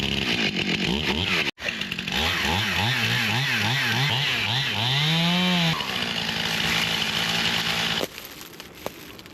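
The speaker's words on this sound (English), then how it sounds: "A branch kind of pushed down on the chainsaw, and look what it does." A chainsaw cutting a branch roars loudly and steadily, its pitch dipping and bogging as the branch pushes down on it, with a brief drop-out near the start and idling toward the end.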